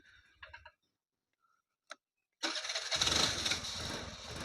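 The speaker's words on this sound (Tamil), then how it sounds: "பாருங்க செல்ஃப் போட்டேன்" A few faint clicks and ticks, then a motorcycle engine cranks and catches, settling into a steady, close idle.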